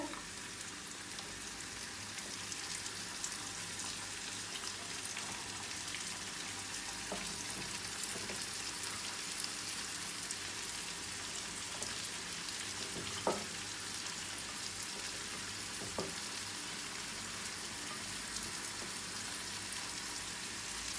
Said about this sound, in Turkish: Soğanlarımı atıyorum. Biberleriyle birlikte.